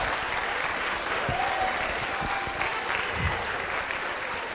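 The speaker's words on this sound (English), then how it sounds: "Please give these students a round of applause." Sustained audience applause for high school students at an assembly, a steady broadband wash of many hands clapping at moderate loudness throughout.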